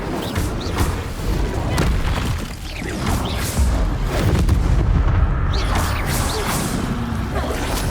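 Repeated fiery spell blasts and booms from Hogwarts Legacy combat, loud and dense, thudding in quick succession over a continuous rumbling game soundscape with no pause between impacts.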